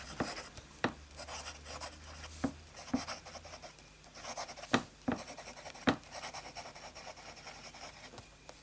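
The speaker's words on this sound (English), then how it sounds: "Let's start with a bit of fine writing." A fine/flex fountain pen scratches across plain copier paper in short strokes, a quiet papery scrape broken by sharp taps and lifts, close and alone.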